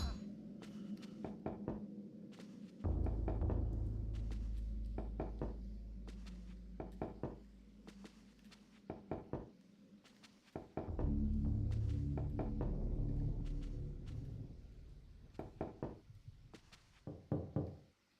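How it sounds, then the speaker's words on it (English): Knocks on an empty wooden wine cask in a video game give hollow, resonant thuds, several sharp raps followed by booming low bursts, close and fairly loud with no talking. "Knocking on this cask results in a hollow thud."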